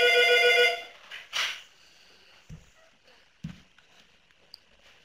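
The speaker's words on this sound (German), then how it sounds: "Jetzt meine Kollegin versucht gerade das Telefon abzuwürgen." An office telephone rings loudly and insistently for about a second, then is cut off, leaving quiet room sounds with a few faint soft thumps and clicks.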